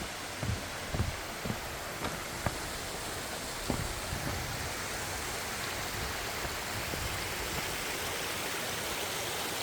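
Twin waterfall at Naeyeonsan, the Sangsaeng falls, pours as a steady broadband roar of falling water, continuous and fairly loud, with a few brief knocks early on.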